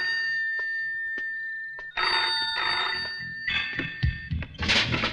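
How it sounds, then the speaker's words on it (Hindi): A telephone bell rings out in several bursts, sharp and bright, with pauses between the rings, growing busier and more cluttered toward the end. "टेलीफोन?"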